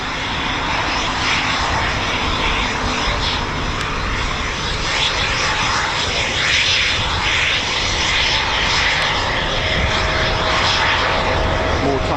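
Eurofighter Typhoon FGR4 jets return to an RAF station, a loud, steady engine roar filling the whole stretch with a broad rumbling wash of noise.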